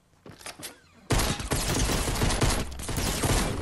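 Rapid pistol gunfire in the Fortnite video game, a dense close burst of shots that starts abruptly after a few softer thuds and keeps going steadily to the end.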